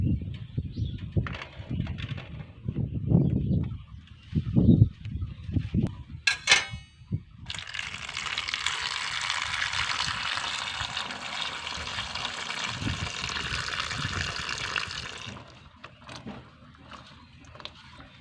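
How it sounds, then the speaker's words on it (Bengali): Pointed gourds (potol) are rinsed in water with close, steady splashing and running-water noise for several seconds, after softer handling knocks and thumps. "এবার পটলগুলোকে খুব সুন্দর করে জলে দিয়ে নিলাম।"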